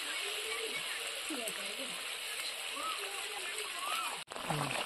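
Water poured into a cooking pan of fish curry, a steady splashing, sloshing stream that runs close and fairly loud for nearly the whole stretch, ending in a brief break.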